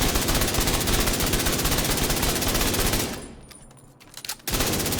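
Assault rifle in the shooter game The Division 2 fires in a loud, continuous rapid burst for about three seconds, breaks off briefly, then resumes at full intensity.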